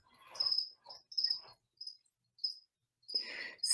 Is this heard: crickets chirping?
yes